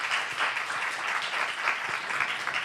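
A church congregation at a Saturday worship service claps together, a dense, steady roar of applause filling the room evenly from start to finish without a pause.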